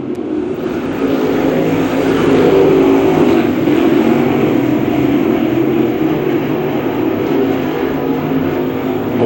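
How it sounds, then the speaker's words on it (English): Pro Late Model race cars roar off together at the start of a race at Macon Speedway, a loud, continuous engine drone that swells slightly and holds steady, with no one speaking over it. "Green flag for the Pro Late Models."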